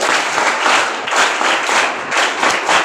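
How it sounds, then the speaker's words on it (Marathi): Students and guests at a school event on legal awareness applaud their teachers, a loud close burst of many hands clapping that swells and dips in uneven waves for a few seconds without speech. "आपले सर आणि शिक्षिका शिक्षिका आणि शिक्षक यांच्यासाठी टाळ्या वाजवा"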